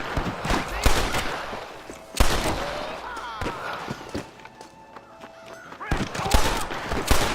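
Gunfights in the video game Red Dead Redemption 2 bring sharp, close gunshots in scattered volleys, some single cracks and quick bursts, with bits of shouting and talk between them.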